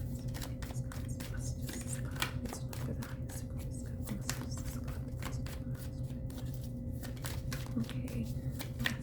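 Tarot cards being shuffled, a rapid run of close papery flicks and riffles over a constant low electrical hum.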